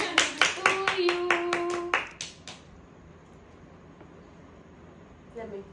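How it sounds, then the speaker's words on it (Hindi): A few people clapping at a home birthday celebration, close, sharp hand claps in a quick rhythm mixed with voices, stopping after about two seconds and leaving a quiet room. "ताली तो बजाओ, हैप्पी बर्थडे"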